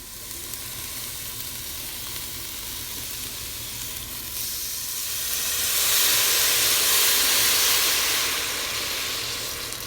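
A pot of Puerto Rican beef stew (carne guisada) with tomato sauce, beef broth and wine sizzling and steaming on the stove, a loud steady hiss that swells midway, close and with no talking.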